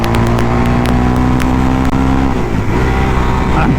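A Suzuki DRZ400 dirt bike engine revs hard and loud up close, holding a high drone before the pitch wavers and drops as the rider reaches for a gear that isn't there, then picks back up.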